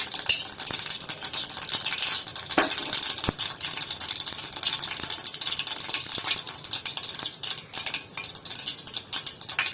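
Mustard seeds, urad dal and fenugreek crackle and pop in sesame oil in a kadai, a dense steady spatter of sizzling with sharp clicks and small tinkling pops throughout, close and continuous with no voices.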